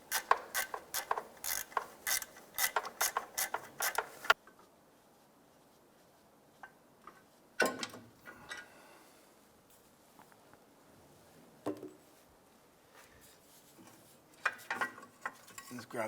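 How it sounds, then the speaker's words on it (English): Ratchet working a bolt loose on a 2001-2005 Honda Civic rear engine mount, with a rapid burst of close clicks, then quiet with scattered metallic clinks and a few shorter clicking runs. "Let's go ahead and loosen and remove this bolt."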